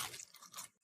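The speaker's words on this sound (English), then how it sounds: "I need you to listen to this crunch." A crisp, close crunch of French fries being bitten, a brief burst of crackly texture that fades out quickly.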